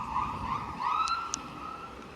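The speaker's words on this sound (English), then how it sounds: "Here comes an ambulance." An ambulance siren on a street in Scarborough's Birch Cliff neighbourhood in Toronto, a rising and wavering wail at moderate distance, steady over street noise for about two seconds.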